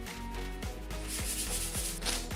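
Sandpaper of 400 grit rubbing back and forth over primed paint, with steady scratchy strokes repeating about every half second, close and alone over a low constant hum.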